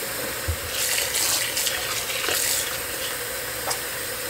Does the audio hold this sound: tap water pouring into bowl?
yes